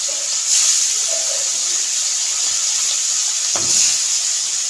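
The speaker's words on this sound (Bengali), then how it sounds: "তেল গরম হয়ে গেছে মাছটা দিয়ে বেগুন দিয়ে মাছটা করবো" Fish sizzling in hot oil in a pan for a thin eggplant and potato curry, a loud steady frying hiss that runs the whole time, broken by one brief clack near the end, with no talking.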